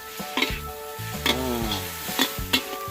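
Seafood is stir-fried in a pan for a noodle-less Thai pad thai, with loud, close sizzling and several rhythmic stirring and scraping strokes over light background music.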